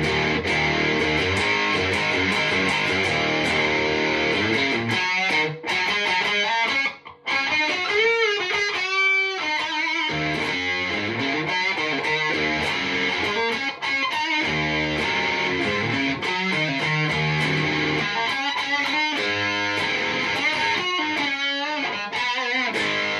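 An electric guitar plays through a Boss DS-2 Turbo Distortion pedal with the distortion set at 2 o'clock, giving thick, saturated chords and single-note lines that ring out loudly and continuously with brief breaks between phrases.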